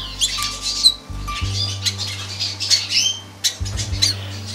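Young birds being fed at a nest at a bird breeder's make repeated close, shrill squawks and chirps in short bursts with brief pauses between them.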